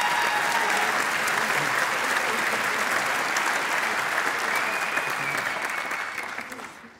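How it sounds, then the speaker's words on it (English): An awards show audience breaks into sustained, loud applause, a thick wash of clapping that holds steady for several seconds before fading out at the end. "I'd like a round of applause, please."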